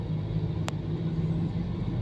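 Slow, heavy Monday traffic heading north toward Manila rumbles in a low, steady drone of idling and creeping engines, with one brief sharp click partway through.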